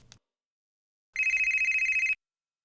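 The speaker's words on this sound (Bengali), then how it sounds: "ফোন বাজছে, কথা বলে নাও।" A telephone rings once in a single electronic burst of about a second, loud and clear against silence, after a brief faint sound at the start.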